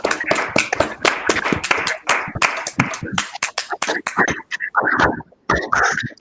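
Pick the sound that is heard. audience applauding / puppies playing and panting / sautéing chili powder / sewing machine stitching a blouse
audience applauding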